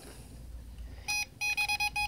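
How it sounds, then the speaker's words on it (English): An EMF ghost detector meter gives a run of short, sharp electronic beeps, close and fairly loud, a single chirp followed by a quick irregular series of four or five bleeps. "This is a ghost detector."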